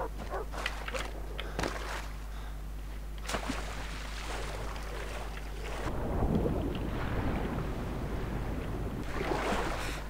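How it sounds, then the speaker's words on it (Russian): A motorboat runs in the video game Far Cry 3, giving a steady low engine drone under rushing wind and water noise that grows louder about halfway through. "Ну, блин, возьму катер тогда."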